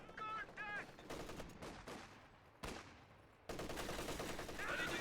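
MG34 machine gun fire in a competitive video game match: rapid bursts of automatic shots, some sharp and loud, with breaks between them and a denser stretch of fire near the end.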